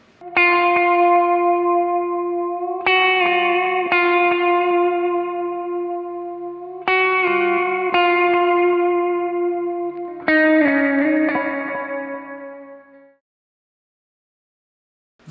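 Electric guitar playing the intro of a song with effects and echo, sustained notes bent up and back down in several phrases, each ringing out before fading into silence.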